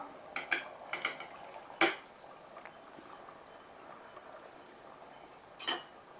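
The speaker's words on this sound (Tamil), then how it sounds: "இந்த டைமில் நம்ம வந்து ஊற வச்சிருக்க அரிசியை சேர்த்துக்கலாம்" Soaked rice tipped into a pot of Vaniyambadi mutton biryani and stirred in, giving a few sharp metallic clinks of a spoon against the vessel amid quiet scraping, with a louder knock near the start and another near the end.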